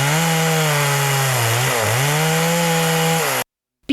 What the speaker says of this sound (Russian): Пилят только старые и больные деревья.